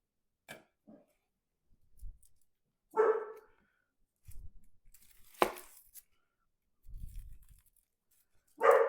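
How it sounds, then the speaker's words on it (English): A female dog named Indigo barks at the neighbors in short, separate outbursts from another room, with faint kitchen knife chopping and clatter in the quiet gaps between barks. "Pardon the dog, she's defending us from the scary neighbors."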